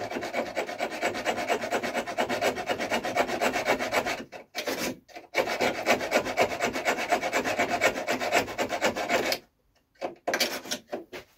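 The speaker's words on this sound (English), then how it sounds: "trying to hacksaw each of those nails" Hacksaw cutting through nails embedded in loft roof timber, a close, continuous rasping back-and-forth stroke that runs for several seconds, pauses briefly, resumes, then stops again near the end, with no voices.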